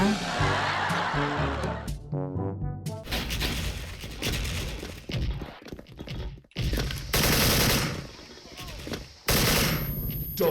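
Rapid bursts of automatic gunfire and single shots in the online shooter Special Force, with an AK74 in play, loud and close with gaps between volleys, while a voice chatters and chuckles over the shooting.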